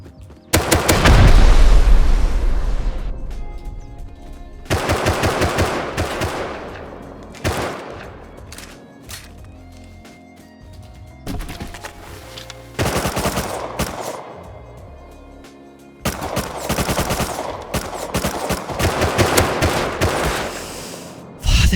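Gunfire in the survival game Rust: a heavy, booming volley up front, then repeated bursts of rapid shots separated by short pauses, with rocket-style blasts among them, loud and close, no talking.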